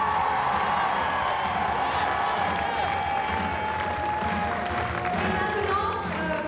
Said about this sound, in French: je vous demande d'applaudir également Carmel